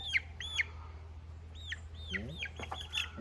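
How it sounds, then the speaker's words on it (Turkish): A black chicken clucks in short repeated calls at a village sheep farm, moderately close, with other soft fowl sounds and a voice speaking briefly in the middle. "Kara tavuk."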